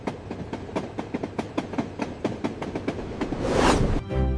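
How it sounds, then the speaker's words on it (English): A train rolls along its rails with a steady clickety-clack of wheels over track joints, loud and close as if heard from inside a carriage, rising into a louder rushing swell near the end. "We are going on a train!"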